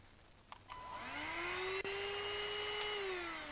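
A Greenote GSC 40 stick vacuum motor starts after a couple of clicks and spins up into a steady, rising whine that holds close and loud with no talk.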